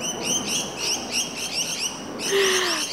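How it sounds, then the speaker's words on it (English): Several birds chirp in quick repeated bursts, fairly close, with a longer whistled call near the end and no talking. "I hope the birds don't really annoy the sound in this."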